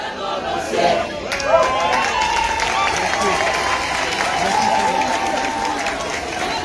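An audience at an ISM international week event applauds a choir, a steady wash of clapping with crowd murmur and voices throughout, fairly loud and sustained.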